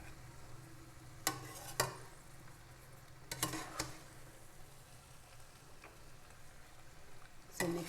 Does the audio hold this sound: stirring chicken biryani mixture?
yes